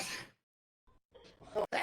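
A single sharp sneeze bursts out close to the microphone at the very start, followed by quiet breathy sounds and scraps of nearby voice.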